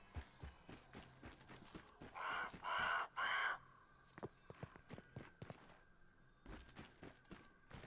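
Inside the video game Grounded, a large bird gives three harsh, cawing calls in quick succession, set against light scattered tapping and footstep-like clicks that carry on before and after.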